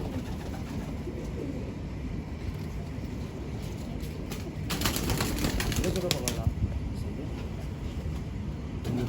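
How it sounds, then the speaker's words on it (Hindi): A male white pigeon of an old Indian breed, held in hand at a large loft, coos softly and then flaps its wings in a short flurry, close by, with people talking throughout. "कबूतर भी बुरा मान रहा है।"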